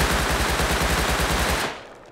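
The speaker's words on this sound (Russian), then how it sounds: "Так, теперь проверяем дульный ускоритель. Точность замерять уже не будем. И просто наслаждаемся темпом стрельбы." Very loud rapid-fire automatic gunfire from a Rust video game weapon fitted with a muzzle booster, a dense even burst of shots that stops abruptly near the end.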